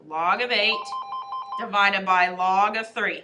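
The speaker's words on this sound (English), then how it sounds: "Sorry for the phone ringing." A telephone rings in a short burst of rapid, regular electronic pulses, heard between stretches of a man lecturing on logarithms, who keeps talking just before and after it.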